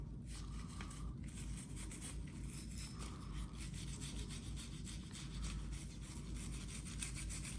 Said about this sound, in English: So with this wire brush, we're going to scrub inside of the slide really good.